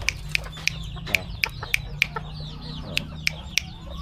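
Chabo bantam chickens in a backyard coop give a run of sharp, rhythmic clucks and squawks about every third of a second, close and loud over a low background hum.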